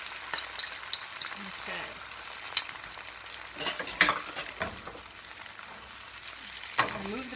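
An egg fries in a very large pan for fried rice, giving a soft, hissing sizzle with occasional scrapes and taps of a utensil, heard close, with a brief spoken word.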